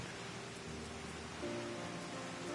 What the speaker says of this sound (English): What a lovely scene in driving rain.